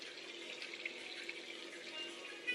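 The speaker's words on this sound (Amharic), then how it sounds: "ውሃ ትንሽ እናደርግበታለን።" Water is poured into a cooking pan of tomato and potato, a faint, steady hiss of running liquid that continues evenly without voices.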